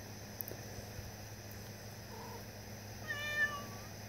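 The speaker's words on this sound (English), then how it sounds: "That's the cat." Domestic cat meowing faintly outdoors at night, a single short drawn-out meow near the end against a steady background hum and insect-like hiss.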